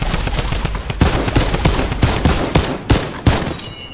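Rapid, loud gunfire in Fortnite from a drum gun firing shot after shot in a steady close rhythm for several seconds with no talking.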